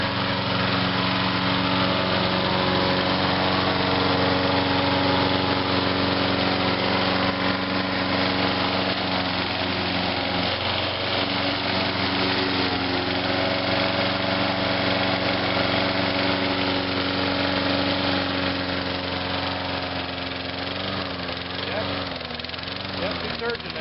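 A small lawn mower engine with a primer bulb, close to running out of fuel, drones steadily up close. Its pitch wavers and surges unevenly toward the end.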